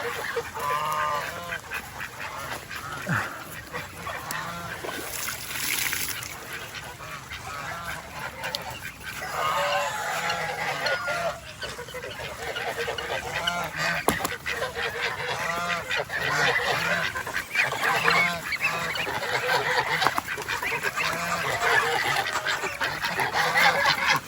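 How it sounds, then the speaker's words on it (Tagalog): Domestic ducks on a farm honk and quack loudly and continuously as a flock while being fed leftover rice, overlapping calls close by with no talking. "papakainin natin itong mga bibi"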